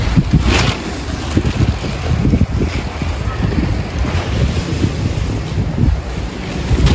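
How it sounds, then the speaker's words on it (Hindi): Strong wind buffets the microphone in a continuous loud roar, gusting unevenly throughout with no clear voices. "बहुत तेज़ हवा है और आसमानों पे बादल,"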